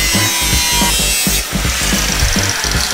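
Power tool cutting through motorcycle fenders on a Honda CB500 cafe racer build, a loud, close, rough grinding rasp with rhythmic surges and dips as the blade bites the metal.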